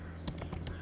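Quick run of keyboard typing on a computer while an article is being written, five or six crisp keystroke taps in under a second, close and fairly quiet with a steady low hum beneath.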